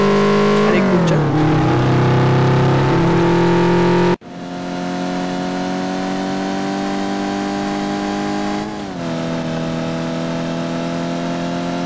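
Citroën C2 VTR engine accelerating in the City Car Driving game, a loud steady drone with rising tones and gear shifts, a brief cut partway through, then continued revving, no voices.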